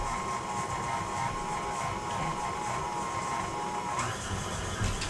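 An electric mixer whirs steadily while mixing sugar for cookie dough, a continuous mid-level motor hum with no breaks, heard close and alone.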